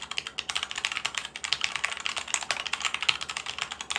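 Steady rapid typing on a Keychron mechanical keyboard fitted with Cherry switches, dense close-up key clicks in an even irregular patter with no talking.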